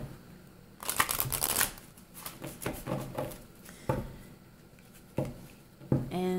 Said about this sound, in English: let's go ahead and pull a Love Your Inner Goddess card